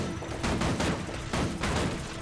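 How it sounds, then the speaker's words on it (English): Small turrets in Guild Wars 2 fire in repeated bursts, a dense crackling rattle of shots coming in several waves, moderately loud with no talk over it. "now your little turrets are going pew"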